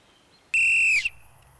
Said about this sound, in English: Tell her to blow her whistle.